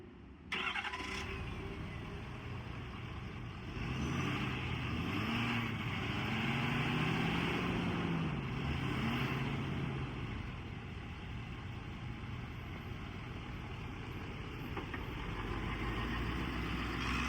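A 2018 Ford F-550 crew cab truck with a 6.7 engine and Autocrane HC7 crane cranks over and settles into a steady, rumbling idle that holds close and continuous.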